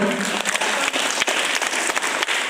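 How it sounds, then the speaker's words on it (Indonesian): Loud, close audience applause at a seminar in Yogyakarta, a dense burst of clapping from a packed room with a few sharper individual claps standing out. "Tepuk tangan untuk beliau."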